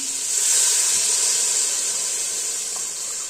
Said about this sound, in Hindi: अब इसके अंदर मैं पानी डालूंगी